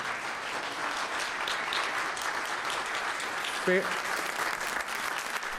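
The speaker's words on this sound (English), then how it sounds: "While you're still clapping" Steady, full applause from a crowd at a Sunday music gathering, even and continuous, with a brief faint tone near the end.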